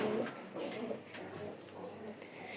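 Pigeons coo softly from nearby cages during an egg check, low rounded calls repeating in short phrases at a modest level with little else around.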